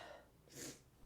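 A woman sneezes once, a sharp breathy burst close to the mic, after a brief quiet intake.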